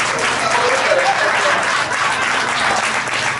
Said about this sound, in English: You guys can clap it.